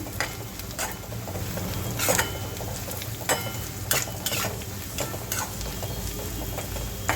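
Purslane leaves sautéed with turmeric and salt in a pan: a continuous close sizzle broken by regular scraping strokes of a spoon against the metal.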